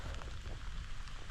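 Steady rain falls outdoors beside a pond, a dense, even hiss of drops with no breaks and no voices.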